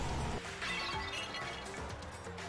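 In the Danganronpa video game, a crystal ball shatters with a bright, sustained burst of breaking glass that rings and scatters for a couple of seconds.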